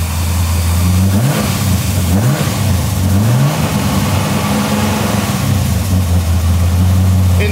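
A car engine idles loudly up close and is revved several times, pitch rising and falling in quick surges before settling back to a steady idle; oil smoke drifts from a partly disassembled engine.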